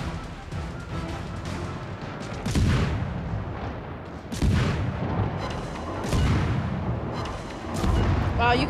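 Naval guns fire in World of Warships, heavy booming salvos landing every couple of seconds over a dense, rumbling battle background with voices faintly mixed in.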